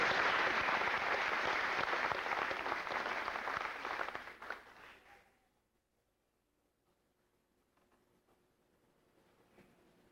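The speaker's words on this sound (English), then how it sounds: "I'd appreciate your applause for them" Audience applause at a 1987 Greenville Christian high school graduation ceremony, a dense steady clapping from a crowd that fades out around midway, leaving near silence.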